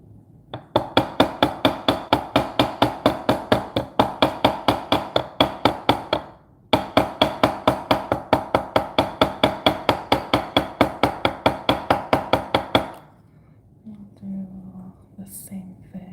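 A metal hammer sets balled-up wire rivets with steady, close, ringing strikes in two long rhythmic runs split by a short pause, then a brief voice afterward.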